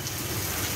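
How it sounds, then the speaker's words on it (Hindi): Heavy rain pours onto a road in Sindh during a stormy downpour, a dense, continuous hiss of drops on wet pavement, close and loud for a brief moment with no voices. "अभी भी बहुत तेज़ बारिश हो रही है।"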